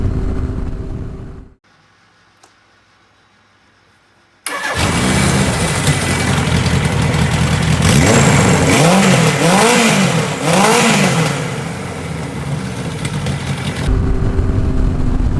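Suzuki GS1000 motorcycle engine running with untuned carburetors, a loud close idle that cuts out briefly, then starts and settles into a steady rumble with several rising and falling revs before dropping back to idle.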